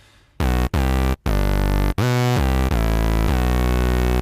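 A buzzy synthesized bass plays a few long, loud notes separated by brief gaps, one note bending in pitch, with no voices.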